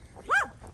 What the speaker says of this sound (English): Don't taunt the chunky dogs that want to bite you